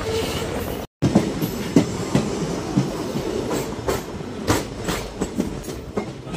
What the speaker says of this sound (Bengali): আমাদের ট্রেন এখন প্রবেশ করছে মাঝগাঁও স্টেশনে।